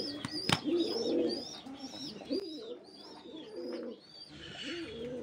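Fancy pigeons coo in a loft, several birds overlapping in soft rolling calls with a sharp click or flap near the start, steady and close without talk.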